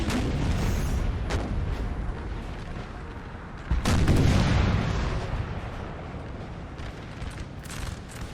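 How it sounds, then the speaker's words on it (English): An artillery grand battery fires in Napoleon Total War, a broad rolling thunder of cannon shots from several guns, with a heavier boom near the middle and a steady distant rumble throughout, no voices over it. "The guns are in play again. Look at the Grand Battery."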